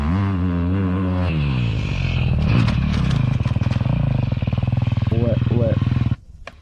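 A motocross motorcycle ridden hard in third gear up to and over a triple jump; a loud, close engine drone holds steady and then breaks into a rapid pulsing rev before cutting off abruptly.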